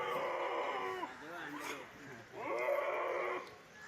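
Goat making odd, funny bleating calls, two drawn-out wavering cries with a pause between, fairly close and moderately loud.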